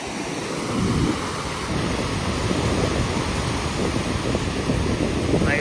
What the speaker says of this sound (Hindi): बड़ी बड़ी लहरें आ रही हैं।